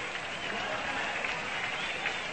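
A 1942 World Series crowd at Sportsman's Park applauds Cardinals batter Stan Musial, producing a continuous broad wash of distant clapping and murmur from the stands that holds steady throughout.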